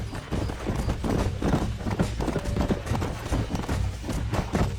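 Horse hooves gallop in the Red Dead Redemption video game, a rapid, continuous drumming of clip-clops over low rumbling, steady and close for about five seconds.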